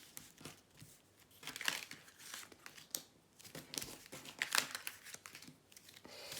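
Tarot cards shuffled, drawn and handled close up during a fortune-telling reading, with soft papery rustles, slides and crinkles in an irregular stream, fairly quiet and with no talk.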